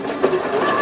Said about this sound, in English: Make sure that I'm not going to sew on top of it by wrapping it around the foot of my sewing machine.